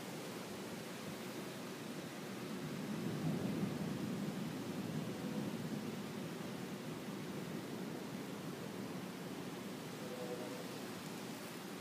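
Steady rain pours down during a storm, a continuous broadband hiss that swells slightly around the middle and holds fairly loud throughout, with no distinct thunderclap standing out.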